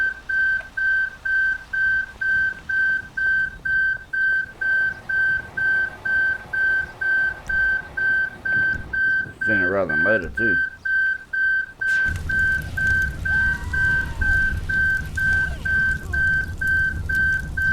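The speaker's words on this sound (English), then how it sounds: "Let's shut that alarm up. Fuck, that's noisy." A shrill electronic fire alarm in a video game beeps in a fast, steady repeating pattern, loud and continuous, while a voice speaks briefly over it and background rumble rises.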